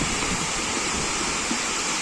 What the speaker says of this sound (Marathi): हा पाणी आहे ना वरून पाणी येत असतो